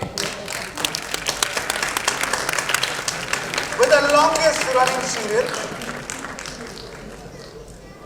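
Audience applause at the Dadasaheb Phalke Award 2017 ceremony as a serial maker is called on stage, steady clapping from a crowd over music, with someone speaking over it.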